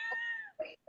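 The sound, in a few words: cat meowing in the house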